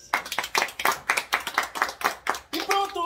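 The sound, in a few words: clapping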